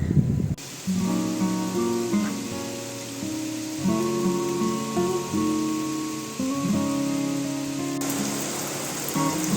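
Steady light rain hisses softly throughout a Himalayan mountain village in Uttarakhand, with sustained droning tones running underneath; no voices.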